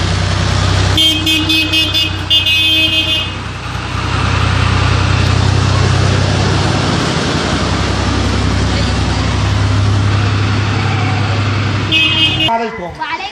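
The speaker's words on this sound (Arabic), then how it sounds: "زمر." A car horn sounds in long, loud, steady blasts near a street, with engine and traffic noise running throughout and a voice speaking over it.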